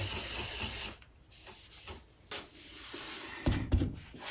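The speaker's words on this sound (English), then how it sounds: "this sanding process is not necessary to have the material adhere" Abrasive paper rubs over brushed-on EM6000 lacquer on an acoustic guitar body in uneven back-and-forth strokes, a loud hissing run at first, then quieter scrubbing and a few sharper rasps, close with no talk.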